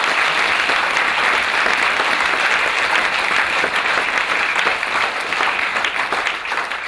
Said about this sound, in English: Mr. Claude Lanzmann, please give him a big hand.